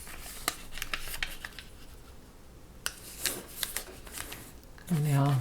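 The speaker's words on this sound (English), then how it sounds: "Fold the other side." Origami paper being folded into a heart, with soft crisp rustles and scattered sharp creasing taps close by, and a voice briefly entering at the end.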